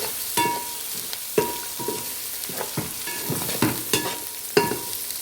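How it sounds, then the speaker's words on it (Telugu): Ginger garlic paste fries in a pan for hotel-style chicken curry as it is stirred constantly. Repeated scraping strokes and clinks of a spoon sound over a continuous sizzle, roughly once a second. "అల్లం వెల్లుల్లి పేస్ట్ వేసిన తర్వాత ఊరికే కలుపుతూనే ఉండాలి"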